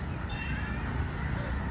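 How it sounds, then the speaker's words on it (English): A cat meows faintly once amid busy outdoor noise on Marine Drive in Mumbai, a short rising-falling cry early on, partly masked by a steady ambient rumble. "We just met a cute cat here"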